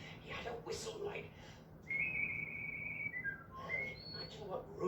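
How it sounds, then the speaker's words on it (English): A storyteller whistles a bright, sliding tune in a long sustained note that bends downward, with spoken narration before and after it. "Imagine what rubies would sound like if they whistled."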